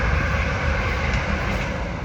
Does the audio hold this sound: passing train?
yes